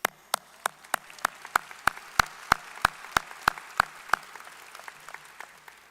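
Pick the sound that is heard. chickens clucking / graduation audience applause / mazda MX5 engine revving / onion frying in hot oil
graduation audience applause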